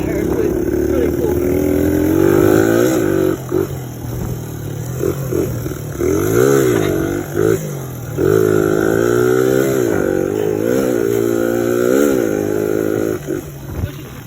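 A DR100 motorcycle engine revs hard and bounces repeatedly off its rev limiter, the pitch rising and cutting in rapid waves throughout, loud and close under steady wind noise.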